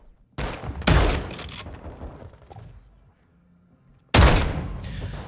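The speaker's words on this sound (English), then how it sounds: "That shotgun should not be fucking doing that much damage." Shotgun blasts in a Call of Duty match, two loud close shots near the start and another sharp burst later, separated by a quieter stretch of fading game noise.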